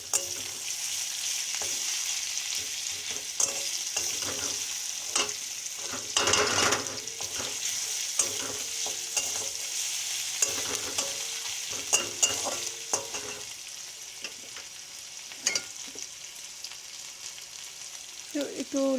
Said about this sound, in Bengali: ভালো করে নেড়ে নিচ্ছি।